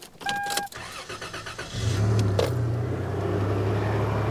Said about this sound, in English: Let's see if the truck starts up.